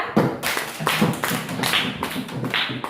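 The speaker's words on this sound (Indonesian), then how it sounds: "Tepuk tangan untuk kelompok 2." Students in a classroom clap for a presenting group, a nearby patter of uneven hand claps mixed with a few thumps. The applause continues for about three seconds without anyone speaking.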